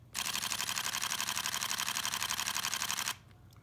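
Pentax K-3 Mark III shutter firing in continuous high burst mode, a rapid, even stream of mechanical clicks lasting about three seconds, close and loud, then stopping abruptly.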